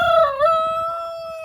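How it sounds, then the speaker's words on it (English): A Buff Orpington rooster in a farm coop gives one loud, close crow, a sustained rising then steady call that tapers off with no talk over it. "He's a Buff Orpington there. He's the rooster of the coop."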